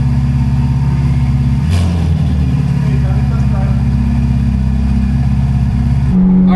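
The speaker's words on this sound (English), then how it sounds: "You can hear the turbos at idle." A Ferrari 488 Pista with a Kline Inconel exhaust idles close by, a steady loud low rumble with a faint turbo whine above it and a brief blip partway through, while someone talks over it.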